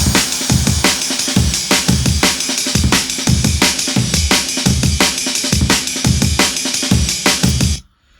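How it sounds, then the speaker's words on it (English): The full drum mix from a drum and bass track plays loud and busy, with fast punchy kicks, snares and bright cymbals in a driving breakbeat rhythm that cuts off abruptly at the end. "the drums all together, they sound like"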